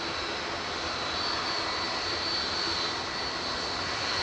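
A 30-year-old Jet2 Boeing 757 departing Manchester Airport for Palma de Mallorca, a steady distant jet engine roar with a faint high whine, holding level throughout, no talking.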